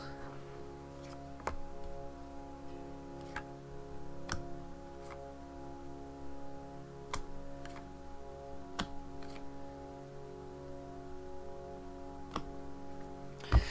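Tarot card deck being cut and dealt out, a sparse series of soft, sharp card snaps and taps every second or so over a quiet room hum.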